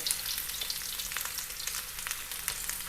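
Breaded chicken schnitzel filled with cheddar and smoked turkey fries in hot oil in a pan, a steady dense crackling sizzle with fine popping spatters throughout.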